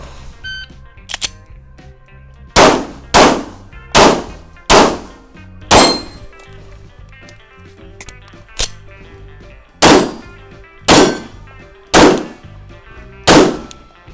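Shots from a Glock 34 Gen 3 pistol crack out in an irregular series of about ten sharp, loud reports at a range, with smaller metallic clinks between them and no talking.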